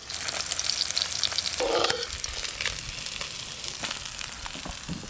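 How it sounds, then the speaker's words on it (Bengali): A batch of parshe fish frying in oil gives a dense, close sizzle with small crackles and pops, steady throughout with a brief louder burst near the start. "এই মাছগুলো ভাজলেই সব মাছ ভাজা হয়ে যাবে।"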